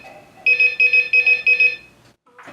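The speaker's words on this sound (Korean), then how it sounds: "새벽 6시 알람 소리가 울린다." An alarm clock rings at 6 a.m. in four quick bursts of rapid electronic beeping, loud and close, then stops abruptly.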